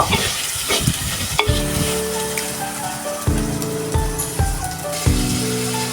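Shrimp stir-fried in a pan with a little turmeric, a loud close sizzle broken by repeated clanks and scrapes of the utensil against the pan, with no voice.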